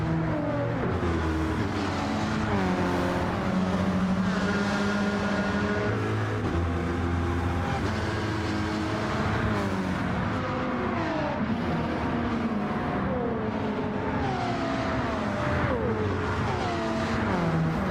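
A Group 4 Volkswagen Scirocco race car in Gran Turismo 7 drones loudly and continuously, its engine note climbing and dropping through repeated gear changes, with other racing cars close around it and no voices over it.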